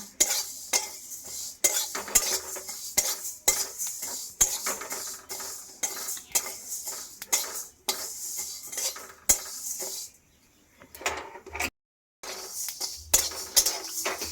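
Carom seeds and fenugreek seeds dry-roasted in a pan for mango pickle, stirred with a steady rhythmic scraping and rattling of a utensil on metal, with a short pause partway through.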